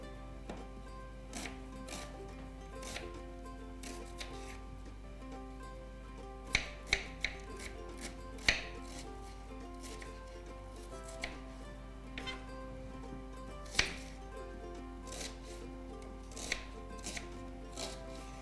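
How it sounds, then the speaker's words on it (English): A knife chops onions on a cutting board in scattered, uneven strokes, a few sharp knocks standing out over a low steady hum. "we are chopping our 6 medium size of onions"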